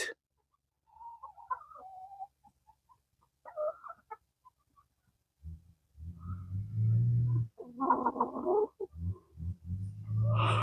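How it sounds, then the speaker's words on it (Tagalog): Chickens clucking and murmuring nearby as they eat pumpkin, sparse at first and then busier and louder toward the end, with short pauses between bursts. "napakain na natin yung ating mga manok"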